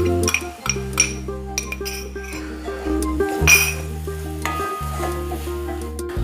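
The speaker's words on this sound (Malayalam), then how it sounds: "ഒരു മിനിറ്റ് നേരത്തോളം നമ്മൾ ഈ നാളികേരം ഇളക്കണം കേട്ടോ" Grated coconut stirred in a metal pan for Kerala kadala curry, with a spoon clinking and scraping against the pan in steady strokes and a soft sizzle, under continuous background music.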